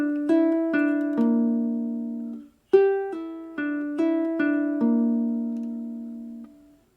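Fingerstyle ukulele picking the intro to a song: clean plucked notes in a steady rolling pattern, close and clear, with a short pause midway before the pattern resumes, no voice.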